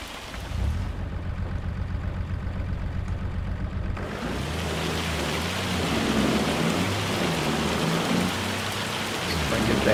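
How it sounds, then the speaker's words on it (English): In the Farming Simulator 25 video game, a hailstorm pounds down in a steady dense roar of rain and hail, with deep rolling thunder rumbling underneath. "the hailstorm hit a little sooner than I was expecting"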